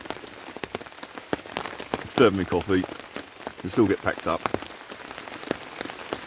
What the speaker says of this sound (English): I think the forecast is for rain until at least the middle of the day.